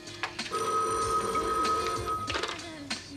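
A telephone rings with a sustained electronic tone lasting a couple of seconds, heard indoors over background noise and room sound.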